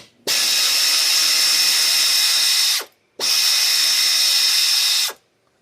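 Two long bursts from a power ratchet or drill taking out 10 mm bolts during a water pump replacement on a 2021 G70 3.3. Each burst is loud and steady and ends in a short gap.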